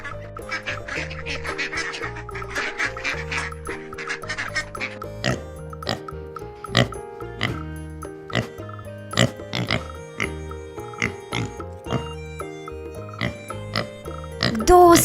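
A pig grunts and oinks in a series of short, snorting calls over steady background music during an animal-sound guessing game; the calls are moderately loud and spaced irregularly, with no talking.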